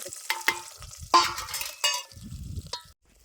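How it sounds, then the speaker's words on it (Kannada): Onions, green chilies and potatoes hit hot oil in a North Karnataka home kitchen, giving a bright crackling sizzle with stirring scrapes and light clinks of the pan, close by and without talk. "ಈ ಉಳ್ಳಾಗಡ್ಡಿ ಮೆಣಸಿನ್ಕಾಯಿ ಈ ಆಲೂಗಡ್ಡಿ ಇವೆಲ್ಲ ಫ್ರೈ ಆಗ್ಬೇಕ್ರಿ ಈಗ ಎಣ್ಣೆಗೆ"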